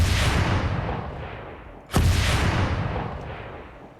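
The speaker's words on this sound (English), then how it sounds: "Rockets incoming, get down." Rocket fire in a military shooter game, two heavy booming blasts about two seconds apart, each with a long rumbling decay, loud and close with no talk.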